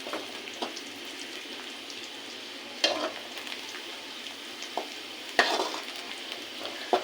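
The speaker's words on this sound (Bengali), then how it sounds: "পেঁয়াজ রসুনটা ভাজা হয়ে গেছে," Chopped onion and garlic fry in oil in a pan, giving a soft, steady sizzle. A few sharper scrapes and clinks come from the stirring spoon, and no one speaks.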